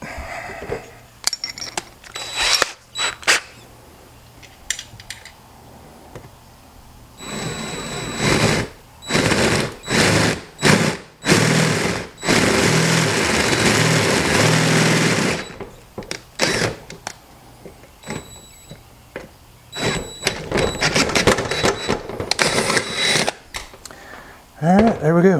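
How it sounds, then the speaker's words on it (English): Power drill boring a hole into the metal case of a Harbor Freight Centech battery charger, heard in several bursts of loud whirring and grinding with the longest run in the middle, separated by pauses, thunks and brief handling noises. "We have our hole drilled."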